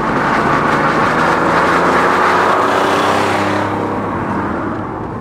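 A classic Porsche 911 F-model with its six-cylinder engine driving through city traffic, a loud, close, continuous engine roar with road noise that eases off slightly toward the end, no voices.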